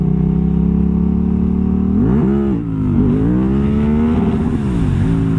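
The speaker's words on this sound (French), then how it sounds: "Voilà ce qui se passe quand on fait un wheeling en première vitesse." Motorcycle engine held at high revs in first gear during a wheelie, a loud continuous drone whose pitch climbs, dips and surges again as the throttle is worked, with no talk over it.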